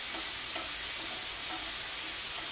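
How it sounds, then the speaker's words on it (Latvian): Food toasts in a hot pan and is stirred, making a soft continuous sizzle with faint scraping strokes, fairly quiet and with no talking. "ka viņas vēl turpina grauzdēties, tāpēc, ka panna ir karsta. Turpiniet viņas maisīt, ja?"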